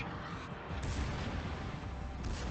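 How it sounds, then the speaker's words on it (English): Battleship guns firing in World of Warships on the Giulio Cesare, a continuous heavy booming rumble with deep, dense low-end roar that swells slightly partway through. "And my front guns can now finish him."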